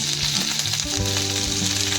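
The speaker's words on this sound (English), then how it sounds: "Add mustard seeds and cumin seeds. Once the seeds sizzle" Mustard and cumin seeds crackle and sizzle in hot oil, a steady frying hiss with faint tonal hum underneath.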